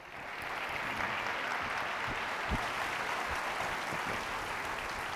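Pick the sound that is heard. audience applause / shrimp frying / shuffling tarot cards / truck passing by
audience applause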